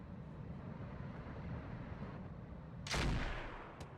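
Weapons fire in the video game BattleTech with the RogueTech mod: a low rumbling battlefield bed, then a single loud booming blast near the end that rolls off, followed by a brief sharp crack.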